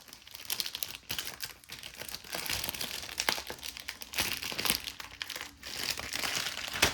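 Paper instructions being pulled from a toy doll box make steady crinkling and rustling, close and fairly loud, with a few sharper crumples throughout.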